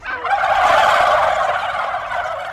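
A voice imitates a female turkey, giving a dense, continuous run of close, loud gobbling yelps that hold steady for the whole stretch.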